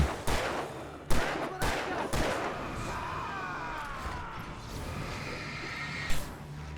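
Gunfire in the action game Alan Wake Remastered: several sharp shots spaced across the first two seconds, then a tense stretch of layered game ambience, with one more shot near the end.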